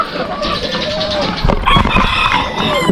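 Chickens cluck in a backyard coop while being fed, their calls mixed with close talking and background chatter throughout.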